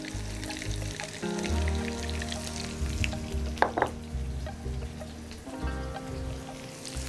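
Dried red chillies, five to seven of them, fry with onion in hot oil, a loud continuous close sizzle with a sharp crackle burst partway through and brief stirring sounds.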